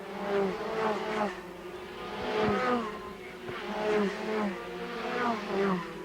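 A field of 1980 Formula Ford race cars at Amaroo Park, engines whining and rising in pitch as they pass in overlapping waves, heard from a distance on a thin, vintage-sounding recording.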